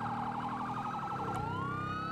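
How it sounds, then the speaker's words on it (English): A police siren in a video game yelps rapidly in a fast warbling pattern, then switches to a slow rising wail, loud and close. "Nice little legit siren there."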